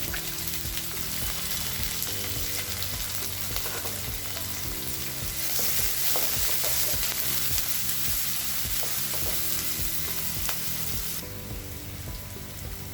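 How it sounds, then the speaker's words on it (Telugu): Onions and green chillies frying in a pan give a dense, continuous sizzle up close, with stirring clatter running through it and no voices. "ఉల్లిపాయలు, పచ్చిమిర్చి ఒకేసారి వేసుకోవచ్చు. కొద్దిగా ఫ్రై అవ్వాలి, ఈ 2 కలిపి కొంచెం ఫ్రై అవ్వాలి"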